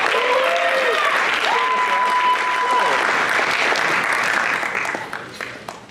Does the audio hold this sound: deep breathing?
no